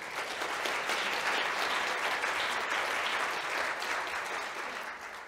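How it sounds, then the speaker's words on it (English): Sustained audience applause at the opening of a conference fills a large hall, a dense, even wash of many hands clapping that fades slightly near the end. "Applause for Barbara Weitgruber."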